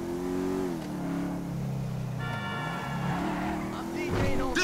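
A big motorbike engine in GTA V revs and drones with a rising and falling pitch, held up close under shouting voices.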